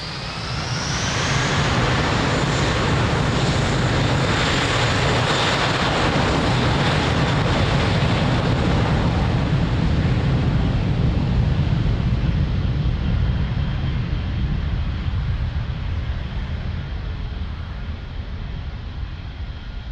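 A jet airliner takes off from runway 02 at Lisbon Airport, its engines building into a loud, sustained roar that stays strong and then slowly fades as it climbs away. No one speaks.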